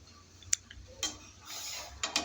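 A metal pot lid clinks and settles onto a pot of bottle gourd curry with fried shrimp and mung dal, giving a few sharp, close clacks spaced over a couple of seconds against a quiet kitchen background.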